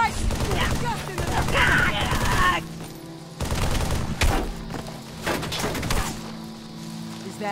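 Rapid bursts of automatic gunfire and heavy weapon blasts in the Halo 3 video game, loud and dense, with a short break before more shooting and thuds over background game sounds.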